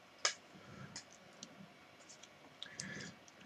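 Plastic G1 Transformers Sharkbite toy parts being moved into pistol mode, with a sharp snap near the start and a few faint clicks and ticks of parts rotating and locking, close and quiet.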